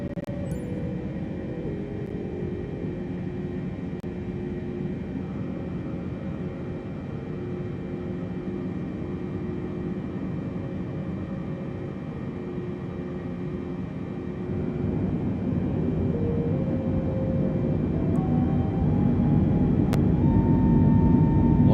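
Simulated airliner engines, a Boeing taking off from Fort Lauderdale in a flight simulator game, hold a steady droning hum that swells louder partway through as thrust builds, with no talking.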